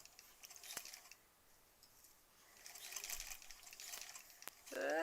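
A sewing machine stitches rows of a granny squares quilt, a soft steady mechanical whirr that rises over the last seconds into a louder run, with a few sharp clicks along the way, close and alone without talk.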